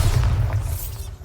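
A spell explosion in the Hogwarts Legacy video game, a deep booming blast with a low rumbling body that fades out over about a second.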